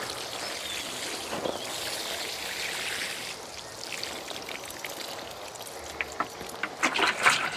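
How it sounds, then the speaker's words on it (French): Water poured from a watering can onto tomato cuttings planted in garden soil, a steady trickling splash that turns into brief uneven spatters toward the end. "Et là je vais arroser."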